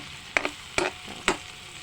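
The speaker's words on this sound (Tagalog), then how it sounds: "Pinagsama-sama ko na ito lahat ng sangkap at ito ay ginisa ko na." Talinong greens with sardines sautéing in a pan, heard as three close stirring scrapes at even intervals over a steady background sizzle.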